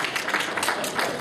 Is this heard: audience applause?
yes